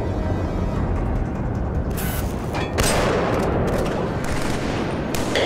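Enemy machine guns in the shooter Killzone 3 keep up loud, dense volleys of overlapping bursts and booms that run without pause.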